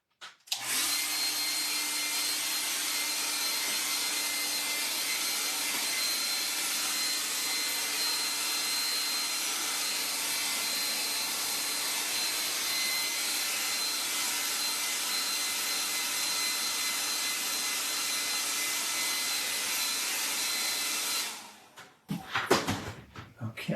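A dryer blows on a watercolor painting, a loud, continuous close-up roar holding steady for about twenty seconds before cutting off, followed by a few brief knocks.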